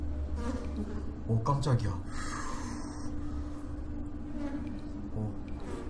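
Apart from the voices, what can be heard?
fly buzzing in the video game Dark Echo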